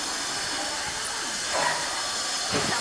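A Shanghai subway line 7 train runs with a loud continuous rushing hiss and rumble, swelling slightly as it moves, close by with a faint background voice.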